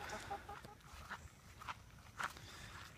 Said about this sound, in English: One Rhode Island Red and one Barred Rock just chilling.